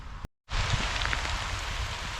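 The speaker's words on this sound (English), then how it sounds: "the rain has come back with absolute vengeance" Heavy rain pours down steadily after a brief moment of silence, a dense, close, continuous hiss that drowns out everything else.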